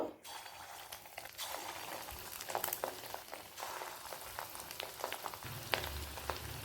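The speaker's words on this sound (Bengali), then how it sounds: "এবার তেলেতে এক এক করে বড়াগুলো ভেজে নেব" Fish roe fritters frying one by one in hot white oil, a steady crackling sizzle with scattered sharp spatters and occasional utensil clinks, fairly close and without talk.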